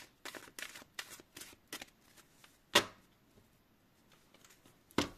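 Playing cards being shuffled by hand, several quick riffling bursts in a row followed by a pause and a couple of sharper snaps, close and fairly quiet.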